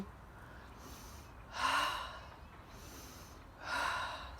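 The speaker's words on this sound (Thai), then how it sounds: "สูดอากาศหายใจนะคะอย่าลืม มายืนสูดอากาศวันนี้" Two deep breaths drawn in through the nose, spaced about two seconds apart, near and fairly loud against quiet open-air background at seven in the morning outside a house with a mountain view.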